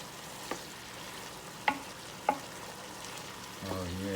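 Sautéed shrimp and vegetables in a Power XL cooker get stirred, with a faint sizzle and a few distinct utensil clinks against the pot before a low hum rises at the end.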